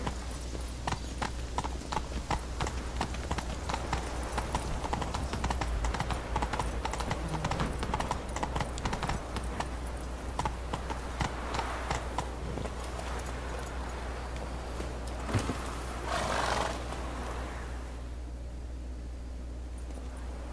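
Hooves clip-clop in a fast, steady galloping rhythm as the horse Roach runs in The Witcher 3, close and continuous over a low ambient rumble, then fading out near the end.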